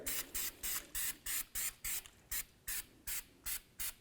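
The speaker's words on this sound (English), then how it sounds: "Now let's apply some copper never sees to the area" Copper anti-seize sprayed onto a 1998–2002 Honda Accord rear wheel hub in about a dozen short, evenly spaced hissing bursts, close and crisp, with no talking.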